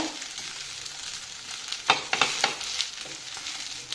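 Chicken dosa frying on a hot pan as it is flipped, a steady close sizzle with a few sharper crackles and scrapes while it turns, no talking.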